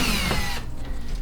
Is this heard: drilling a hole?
yes